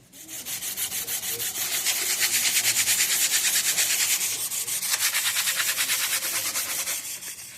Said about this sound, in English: now we're separating the fiberglass tube from the PVC mold